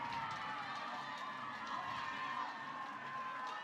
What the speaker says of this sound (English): you can hear the crowd for Clemson getting louder and louder and louder in the dugout